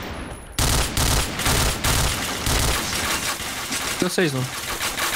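Rapid bursts of gunfire from the video game Point Blank, clustered shots repeating loudly across the clip under steady talk from players.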